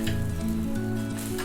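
A wheat dosa sizzles loudly on a hot pan as it is flipped, a steady close crackle with a low hum from the stove underneath.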